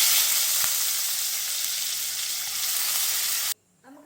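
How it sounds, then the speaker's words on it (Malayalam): Onions drop into the hot oil left from frying prawns and sizzle loudly and steadily at close range, with one faint knock early on, before cutting to near silence at the end. "നമ്മുടെ ചെമ്മീൻ ഫ്രൈ ചെയ്ത അതേ എണ്ണയിലേക്ക് തന്നെ നമുക്ക് കുറച്ച് ഓണിയൻ ഇടാം."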